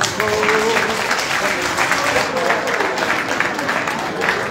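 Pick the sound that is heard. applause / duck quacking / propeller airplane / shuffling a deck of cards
applause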